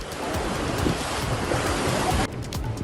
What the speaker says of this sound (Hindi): देखिए यहाँ बरगी बांध का पानी कैसे बेकाबू हो गया